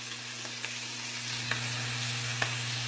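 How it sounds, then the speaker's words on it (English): Cooked quinoa being stirred into vegetables in a frying pan, a steady low sizzle with a few soft scraping clicks from the spoon, fairly quiet and close, under a constant hum. "We're going to start mixing in our quinoa into our frying pan with all of our vegetables."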